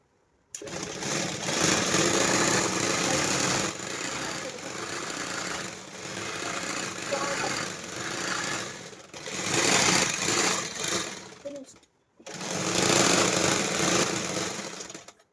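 A sewing machine stitches a pair of pants, running in long, steady, close buzzing bursts with brief stops between them.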